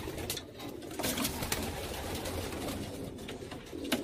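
Steady low cooing from pigeons kept in a rural summer loft, several overlapping birds close by, continuing without pause and with no voices over them.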